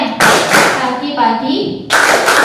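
A rhythmic hand-clapping game in a classroom, with loud, close bursts of group clapping and slapping separated by a short pause, and voices talking between the claps.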